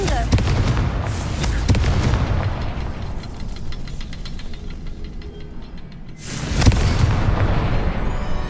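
Confringo fire spells explode in Hogwarts Legacy, a loud booming blast with crackling debris that fills the scene, then a second heavy burst near the end.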